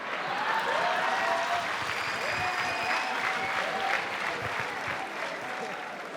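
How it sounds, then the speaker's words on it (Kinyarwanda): Steady audience applause from a crowd at a comedy show fills the whole stretch, dense and continuous at a fairly even level, with a few faint tonal sounds running through it. "mugize inkoma amashyi y'ukuri ya Gael"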